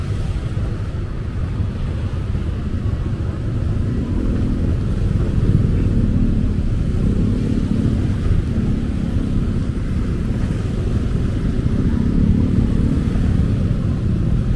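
Heavy congested traffic on Jalan Ciampelas in Bandung, heading toward Ciampelas Walk, a steady low rumble of idling and creeping cars and motorcycles that stays loud and unbroken throughout.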